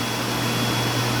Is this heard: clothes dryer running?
yes